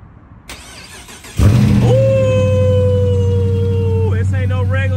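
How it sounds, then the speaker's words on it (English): A 2022 Dodge Challenger R/T Plus with a 5.7 Hemi V8 cold-starts up close: a brief crank, then the engine catches with a loud roar and settles into a steady, rumbling high idle that shifts slightly near the end. "Let's get a cold start on this right quick."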